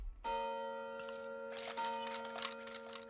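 A cartoon gong struck once, its bright metallic tone ringing on and sustaining for about three seconds, with clattering, rustling noise layered over the fading ring.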